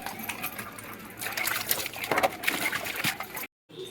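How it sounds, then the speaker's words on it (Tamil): Running water splashes and clatters steadily as dishes are washed by hand in a home kitchen, close and moderately quiet, with faint clinks, ending in a brief silence. "பாத்திரத்தெல்லாம் விளக்கலாம்"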